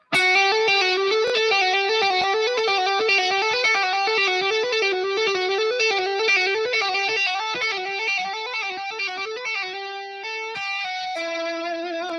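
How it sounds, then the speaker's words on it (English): Electric guitar played through heavily cranked distortion, sustained tapped or legato notes ringing continuously in a fast repeating pattern, loud and close, with a few held notes and brief gaps near the end. "So if I crank up the distortion,"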